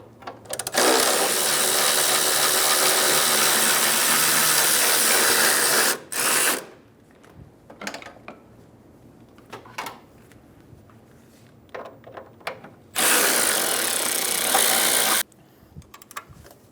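Two 14 mm bolts on the engine torque strut mount of a 2007-2011 Toyota Camry being spun out with a power ratchet, two loud sustained whirring bursts with quieter clicks and handling noises between them, no talking.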